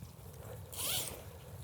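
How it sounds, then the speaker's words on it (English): A weigh sling for carp being zipped shut on a lakeside bank, one short quick zip rising and fading within a second against quiet outdoor background. "To do the zip."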